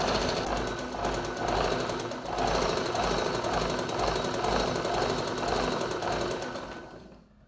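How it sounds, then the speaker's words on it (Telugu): A sewing machine winding thread onto a bobbin gives a steady, loud mechanical whirring and rapid rhythmic chatter that runs continuously and fades out at the very end. "పట్టుకొని ఇలా చుట్టుతూ ఉండాలి తిరిగినట్టల్లా ఆ దారం చుట్టుకుంటుండాలి"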